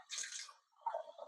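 Water splashes into a hot pan of pork, first as a sharp hissing sizzle that fades, then a lower bubbling gurgle after a brief pause, close and fairly quiet with no talking.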